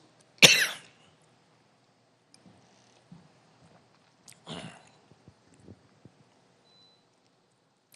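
Two separate coughs during a church sermon in a quiet room, a sharp loud one at the start and a softer one midway, with faint small noises between.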